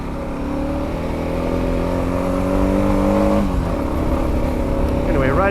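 A KLR 650 motorcycle engine drones steadily while riding a forest road toward the Buchanan fire lookout in British Columbia, with a smooth rising then settling tone and a brief shift near the end, heard close alongside a rider's voice.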